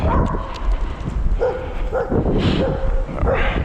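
A dog barks several times outdoors during a long walk in Maine, the short barks recurring over steady background noise with footsteps and ambient sound.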